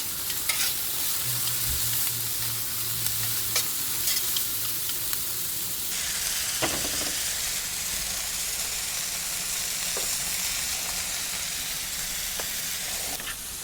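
Potatoes spread out and frying on a Weber Slate flat top griddle give a steady, broad sizzle throughout, with occasional scrapes and clicks of a spatula. No one speaks.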